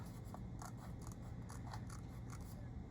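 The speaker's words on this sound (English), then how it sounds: "so I'm going to cut this off." Scissors snipping the edges of a Disney pin craft, a series of soft crisp cuts at an uneven pace over a low steady hum, close and quiet, without speech.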